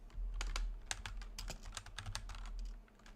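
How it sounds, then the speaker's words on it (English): Rapid clicking keystrokes on a new computer keyboard, a steady run of close, sharp taps with no talking. "I just got a new keyboard."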